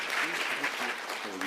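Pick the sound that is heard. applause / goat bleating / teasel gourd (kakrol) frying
applause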